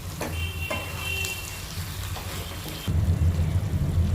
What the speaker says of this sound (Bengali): এবার ভালোভাবে আরেকবার নেড়ে চেড়ে মিশিয়ে নেবে।